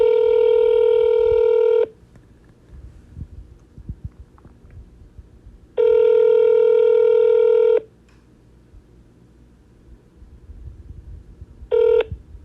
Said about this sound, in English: To speak with the receptionist, please press 0 followed by the pound key.